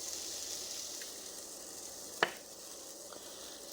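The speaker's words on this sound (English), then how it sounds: "Drop some more batter in the pan. Gotta love that sizzle." Pancake batter sizzles in oil in a frying pan, a close, continuous crackling hiss broken by one sharp clack of a scoop or utensil partway through.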